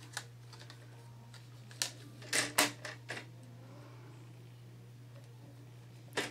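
A paper trimmer slices a strip of paper at the four-inch mark, giving a few faint, quick clicks and scraping cuts over a low steady hum.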